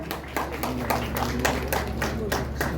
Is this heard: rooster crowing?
no